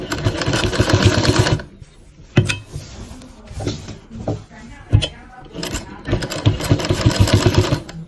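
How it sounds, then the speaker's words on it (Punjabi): Sewing machine stitching the folded waistband of cotton undershorts, running in loud, close rhythmic bursts at the start and end, with a quieter stretch of handling clicks and knocks between them. "ਇਸ ਤਰ੍ਹਾਂ ਸਿਲਾਈ ਲਾ ਦੇਣੀ ਦੇਖੋ ਲੱਗੀ ਸਿਲਾਈ"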